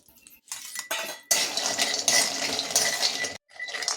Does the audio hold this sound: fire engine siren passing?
no